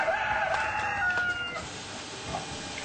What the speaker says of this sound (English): Apart from the animatronic cockerel,